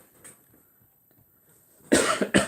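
Two sharp, loud coughs near the end, close by, after a stretch of quiet with faint low background sounds.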